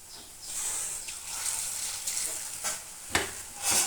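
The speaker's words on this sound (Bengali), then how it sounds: "তারপর এদিকে আমি আলু মাখাটা আর আলু দিয়ে যে বেসনটা মেখেছিলাম সেটাকে দিয়ে দিয়ে ভেজে নেব।" Potato and gram-flour pakoras fry in hot oil, giving a steady close sizzle and hiss with a few sharper crackling pops, no talking.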